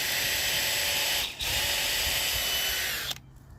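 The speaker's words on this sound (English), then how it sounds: "Now I'm going to drill a hole through it." Power drill boring a hole through a piece of deer antler, a loud steady high whine close up with one brief dip, then it stops abruptly near the end.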